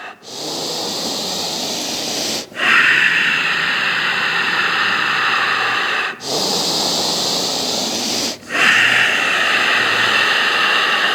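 Slow qigong breathing: long, hissing breaths drawn in and let out in a steady rhythm, about four drawn-out breaths separated by short pauses, close and fairly loud with no talking.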